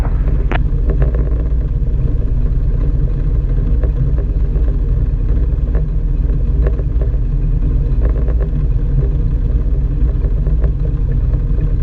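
A Czech SportCruiser light aircraft's piston engine drones steadily and loud at close range while taxiing, a constant low rumble with faint clatter and no pauses.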